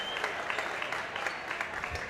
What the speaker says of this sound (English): Lewis and Dye will come out to some applause.